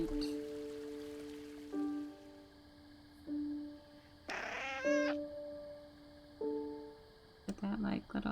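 Small cat meowing in the video game A Story Beside, a few short mews over steady game music with tonal notes, with a brief burst of other game sound in the middle.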